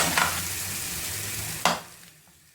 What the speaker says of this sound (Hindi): ये देखिए अंडों को अब मैं पका रही हूँ।